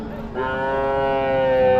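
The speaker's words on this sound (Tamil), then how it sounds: "இதுவும் பார்த்தீங்கன்னா நல்ல பெரிய மாடுங்க ஸோ வயசான மாடுங்க" A large older cow at a Friday cattle market lets out one long, loud, close moo that swells and holds steady, ending with a brief low rumble at the start.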